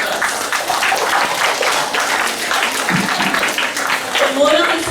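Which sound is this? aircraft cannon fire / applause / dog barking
applause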